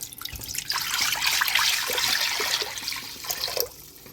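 Water gushes from a tap into an empty pot for boiling spaghetti. The pour is steady and close for about three seconds, then cuts off.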